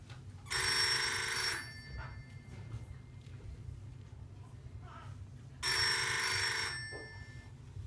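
A telephone bell rings in two bright, rattling bursts about a second long each, several seconds apart, over a low background hum.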